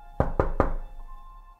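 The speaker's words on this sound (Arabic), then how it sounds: "لقيت الباب بيخبط" Three evenly spaced, firm knocks on a door, close and loud, with a faint hum lingering after them and no voices.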